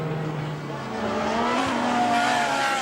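Ferrari 458 race cars at Le Mans, with engine tones rising and sweeping past in a continuous roar against loud trackside and crowd noise, with a spin happening on the circuit.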